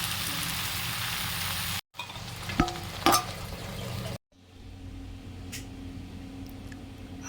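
Greens with turmeric and salt fry in a pan with a soft, steady sizzle, broken by two abrupt cuts and a few light clinks from stirring, and the later stretch is quieter and fainter.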